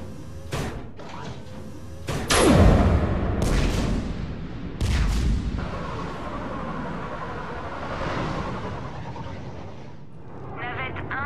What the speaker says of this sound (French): Percez un trou dans le périmètre avec les canons